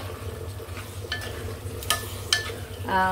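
Yogurt and chicken are stirred and fried in a pan for white biryani. A steady sizzle runs under a few clinks and scrapes of a utensil against the pan.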